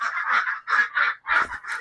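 Ducks in a backyard pen quacking and honking, a rapid series of loud nasal calls close by.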